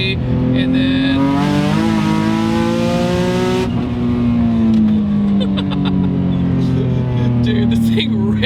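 A 540 hp single-turbo Nissan 350Z HR with stock transmission pulls hard in third gear, its engine note rising steadily and loudly from inside the car, with a brief higher whine partway through and someone talking over it.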